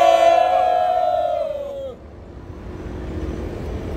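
A crowd at an outdoor civic-group press conference shouts a loud, drawn-out cheer for about two seconds, which then cuts off and leaves a low murmur of open-air background noise.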